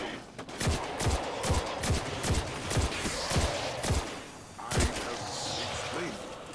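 Gunfire from a weapon in the Destiny 2 video game, a rapid series of about nine punchy shots in steady rhythm, a pause, then another shot, loud and close.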